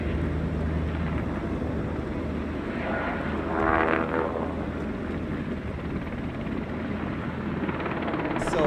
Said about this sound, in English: Semis flying by, helicopter overhead